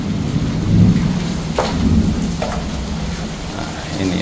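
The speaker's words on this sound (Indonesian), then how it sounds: "Sudah mulai tampak hujan deras nih ya" Steady heavy rain hisses throughout a storm in Mecca, with a low thunder rumble underneath and a few sharp cracks; a voice is faintly present.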